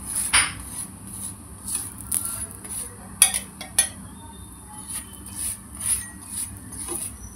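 Paratha roasts on a pan with oil, marked by a series of sharp metallic clinks and scrapes of utensil against the pan over a low background sizzle.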